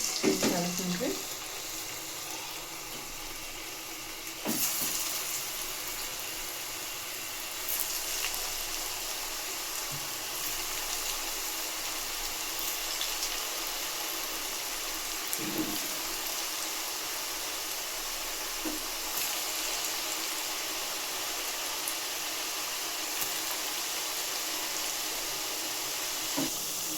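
North Karnataka style chakli fries in hot oil with a steady, bright bubbling hiss that flares up near the start and then holds evenly, fairly close.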